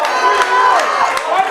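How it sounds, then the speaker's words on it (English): Crowd noise at a high school football game under the lights, a steady roar of cheering and chatter with scattered shouts, fairly loud and close, with no clear single voice standing out. "Sounds like a Division I type of crowd here tonight."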